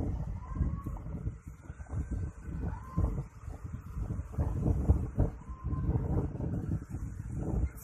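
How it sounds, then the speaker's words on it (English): Wind at a beach resort at Tanjung Bidara, gusting as a steady low rumble of microphone buffeting, loud and continuous with some faint background voices. "So it's very windy."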